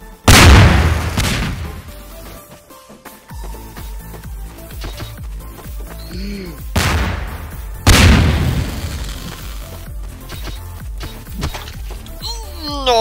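Bombs blow up in the Garry's Mod game Melon Bomber: several loud, booming blasts spaced apart, each with a long decaying tail, while players talk and shout excitedly in between.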